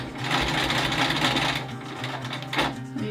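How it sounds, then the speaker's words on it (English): A longarm quilting machine stitches down a T-shirt quilt with a fast, steady mechanical needle chatter, close and fairly loud, pausing briefly before resuming near the end, with no talking. "Now I'm going to start stitching it down so I can let go."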